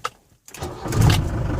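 Ford Transit Chausson camper van engine cranking briefly after a short pause, then catching and settling into a steady, rumbling idle, close and alone.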